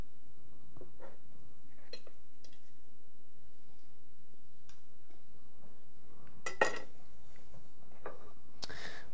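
Knife and cutlery clinking against a plate while a salmon and cod fish terrine is cut, sparse soft taps and a few sharper clinks, close and quiet with no talk.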